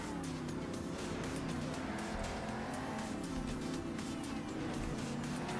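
A monster truck engine in Monster Jam Steel Titans races with a steady loud drone and a rising and falling pitch, along with tire noise during a race, continuous and without a break.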